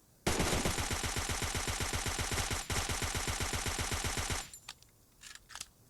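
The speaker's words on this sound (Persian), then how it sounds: "ببین خودش نیست ولی صدای گلوله هاش هست" A video game weapon fires a long, continuous burst of rapid gunfire for about four seconds, loud and close, then cuts off, leaving faint scattered noise.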